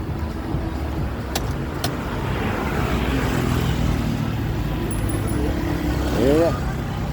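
Street traffic rolls past on a busy road at night on the walk toward Bangla Road, a continuous moderate roadway rumble with vehicles passing at mid distance and a brief horn-like tone near the end.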